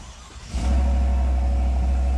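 A 2024 Chevrolet Silverado 1500 Trail Boss with the 5.3L V8 cranks and fires, then settles into a deep, steady rumbling idle with a slight rev, heard close and loud after a quiet moment.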